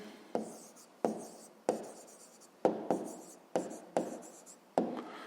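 Pen writing on paper in short, rhythmic strokes, about seven evenly spaced scratchy bursts, close and quiet with no voices.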